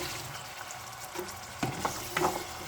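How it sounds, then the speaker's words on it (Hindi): Garlic, cumin and potatoes frying in a pan make a soft, steady sizzle, with a few louder stirring scrapes and clatters near the end. "इसको थोड़ा सा हम फ्राई करेंगे"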